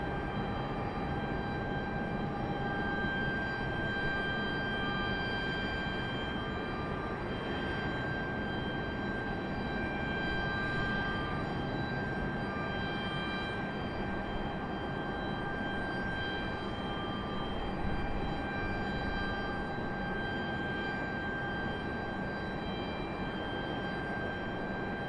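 A Southwest airliner arrives at Raleigh-Durham airport, its engines a steady broadband roar with a faint whine over a continuous rumble that holds level throughout, heard from a distance.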